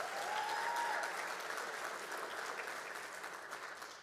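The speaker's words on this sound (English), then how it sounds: "let's give her a big round of applause." Steady applause from an audience at a school district State of the District evening event, dense clapping filling the room at moderate level for several seconds, gradually easing slightly, with no speech over it.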